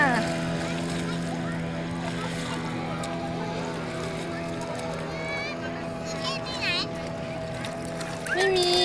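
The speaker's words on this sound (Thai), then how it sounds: "เอาเรือมาอีกแล้ว เรือมาอีกแล้ว พอเรือมามันจะมีคลื่นมาแล้วนะคลื่นมาแล้ว" A passing boat's engine drones in a steady, tonal hum close by, making waves, as people talk and call out over it.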